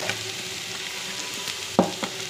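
Onion being sautéed together with beans, carrot and cabbage in a pan, a soft steady sizzle with a brief louder clatter of stirring near the end.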